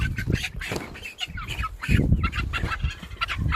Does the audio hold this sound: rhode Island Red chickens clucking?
yes